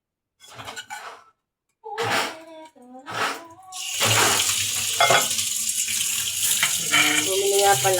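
Tap water pouring into a pot for boiling soup: short bursts of running water, then a steady loud stream filling the pot, with a voice speaking briefly over it.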